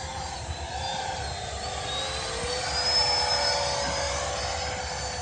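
Freewing Gripen RC delta-wing jet with an electric ducted fan making a slow, high-alpha pass, heard as a steady whine with a broad rushing roar that swells slightly midway, with no talk.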